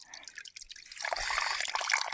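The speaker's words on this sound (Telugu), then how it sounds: "ఈ పైప్ నుంచి వస్తుంది వాటర్" A pipe fed by a hill spring near Mahendragiri, Odisha, lets out a stream of clear cold water; the near, hissing trickle starts faint, then swells into a steady, bright splatter that runs on alone.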